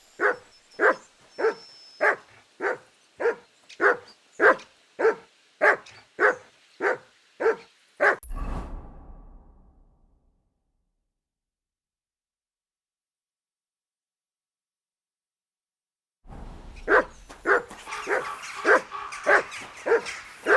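A dog in Kingdom Come Deliverance II barks in a steady run of about a dozen evenly spaced, loud barks, followed by silence, then a faster burst of barking returns near the end.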